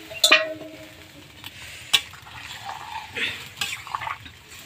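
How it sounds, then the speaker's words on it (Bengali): Vegetables are tipped into a pan of hot oil tempering with a sharp clatter and a burst of sizzling. Stirring scrapes and further clinks follow over a low, continuing fry. "এবার আমি ঢেলে দেবো তরকারিটা।"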